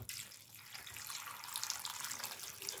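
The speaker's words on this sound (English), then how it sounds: "What I do now is add some water" Water poured over fish in a pot before slow cooking, a steady gushing splash close by for a few seconds, fairly quiet and with no talking.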